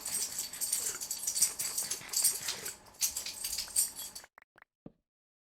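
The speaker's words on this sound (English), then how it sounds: "My puppy is snorting at me over here." A puppy snorting and whimpering close by in short, breathy bursts over steady background sound, which then cuts to near silence with a few faint final snuffles.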